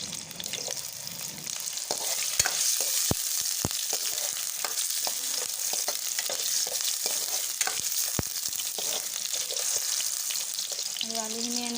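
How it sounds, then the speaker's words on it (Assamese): Potatoes sizzle steadily in hot mustard oil in a wok, with sharp clicks and scrapes of a spatula stirring them throughout, close and continuous with no talk. "আলুখিনি ভাজি ল'ম।"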